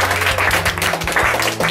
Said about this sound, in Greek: Ένα χειροκρότημα για τον Στέφανε.